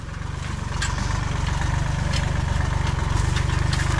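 A tractor engine idles in a rice field, a loud, steady, close chugging drone with an even low rhythm throughout.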